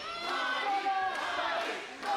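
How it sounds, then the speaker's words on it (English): A wrestling crowd at a Focus Pro Championship match roars in a steady, sustained wash of cheering that stays loud and dense throughout, with scattered shouts rising above the noise. "And listen to that crowd."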